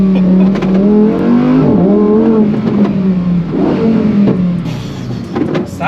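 Lamborghini Huracan STO V10 engine revving hard and loud, with rising and falling howls across repeated throttle blips and sharp pops and crackles between them.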